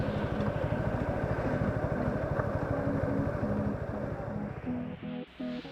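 A Suzuki Gixxer SF 250 motorcycle's single-cylinder engine idles close by with a steady, rapid thumping pulse, then stumbles and cuts out near the end.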